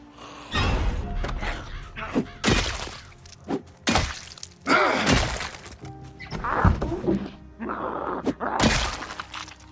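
Repeated heavy whacks and crunching impacts from a garden hoe striking zombies in the survival video game Project Zomboid, irregular hits close and punchy with grunts and gasps between them.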